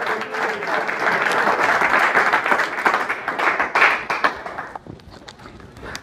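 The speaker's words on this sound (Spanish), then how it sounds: "Den un aplauso al Señor" A church congregation claps loudly and steadily for the Lord at a family consecration service, a dense roar of hands that thins out near the end.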